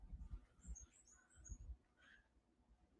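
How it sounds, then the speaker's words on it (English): Birds chirp in a mountain valley lookout in the Blue Mountains, with a few high, thin calls scattered over low wind rumble and outdoor noise, faint and distant. "listen to the birds"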